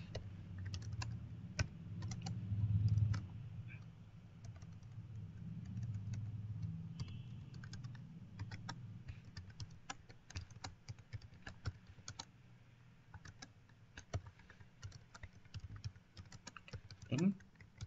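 Keys clatter in quick, steady bursts on a computer keyboard at close range, typed over a low, constant hum, with a voice speaking at times.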